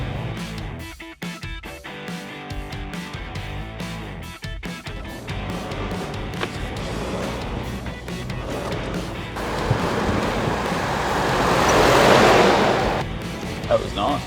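A car on a tyre test with Yokohama GO15 and GO18 tyres weaves through a slalom at 40 km/h, a steady cabin drone of engine and road noise swelling into a louder broadband tyre rush near the end.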